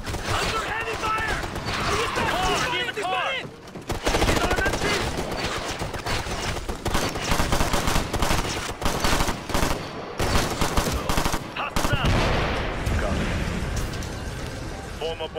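Heavy gunfire in the Ghost Recon Future Soldier video game: dense, loud volleys of shots and sharp cracks over about fifteen seconds, with talk and mechanical clatter mixed in.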